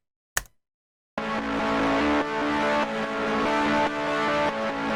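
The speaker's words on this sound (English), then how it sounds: "If you want to hear how the compression sounds on its own," Synth chords pumping rhythmically under sidechain compression keyed to a kick drum, made for an indie game soundtrack; a brief click precedes a steady, loud pad that swells and ducks about every half second, with no voices.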